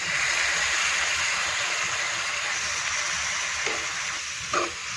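Ground masala paste sizzles in oil for Kochi-style beef vindaloo, a steady close frying hiss that softens slightly over time, with a couple of brief stirring clatters near the end and no talk.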